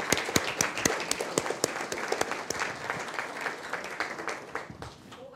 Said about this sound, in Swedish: Res upp Kristina, jag tycker du också värd en applåd.